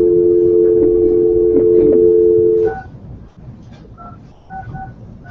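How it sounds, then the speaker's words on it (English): Telephone keypad tones dialing into a conference line: a steady tone for almost three seconds, then a run of short, separate beeps at a lower level, with no voices. "please dial back into the conference line"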